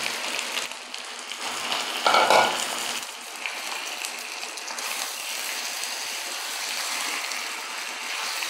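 Chicken pieces for chicken korma sizzle in a pan after the ginger and garlic are fried, a steady close crackle with a brief louder burst as the meat goes in, continuing without speech.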